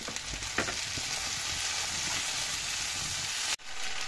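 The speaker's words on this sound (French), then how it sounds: "On va les faire cuire jusqu'à temps qu'elles dorent." Potatoes and smoked bacon lardons fry with onions in a pan for tartiflette, making a constant sizzle broken by a few stirring scrapes near the start. The sound drops out briefly just before the end.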